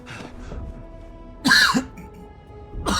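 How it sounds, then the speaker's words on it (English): A man coughs and clears his throat while playing the game Akila City Stories, a soft throaty rasp followed by a loud, close hacking cough and another short clearing at the end. "Didn't mean to cough your ears off."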